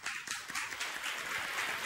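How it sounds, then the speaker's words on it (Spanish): Steady applause from a crowd, a dense wash of many hands clapping at once, continuous and moderately loud for a couple of seconds. "y así poderle brindar a Tomás un aplauso de reconocimiento."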